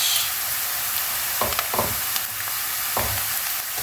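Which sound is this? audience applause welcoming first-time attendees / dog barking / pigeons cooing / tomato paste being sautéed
tomato paste being sautéed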